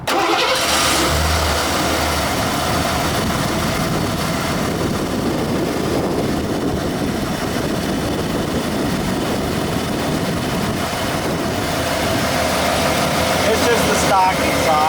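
A 1991 Ford F-150 pickup truck engine with stock exhaust cranks and catches, then settles into a steady rumbling idle that continues for several seconds, close by.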